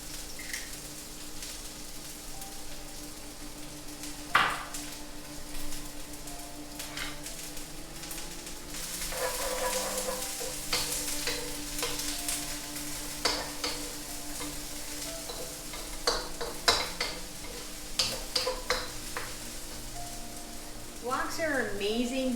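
Onions sizzle in a sesame and avocado oil blend in a hot wok, a steady close hiss with stirring scrapes and occasional clanks, plus faint voices in the background.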